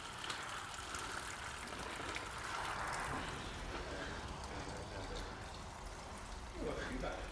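Diesel pouring out of a removed Mercedes W123 fuel tank, a continuous splashing, gushing stream that stays loud and steady, with people talking over it.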